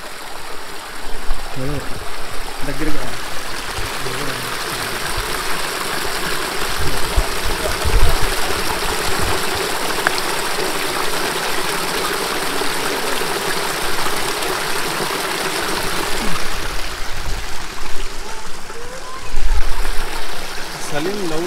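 Steady white-noise rush of water flowing at Penchalakona waterfall, a broad continuous wash from nearby with occasional voices and footsteps over it.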